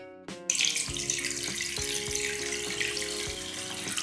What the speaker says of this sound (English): First, I rinsed it under the tap,